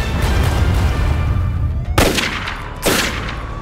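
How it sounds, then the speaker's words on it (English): Two sharp gunshots from a staged police pursuit scene in a satirical puppet comedy sketch, loud bursts about a second apart over a steady rumbling background. "Shot fired."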